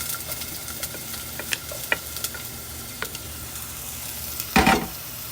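Onion frying toward brown in a pan for sotanghon, a quiet sizzle broken by small ticks and taps of stirring, with one louder scrape near the end.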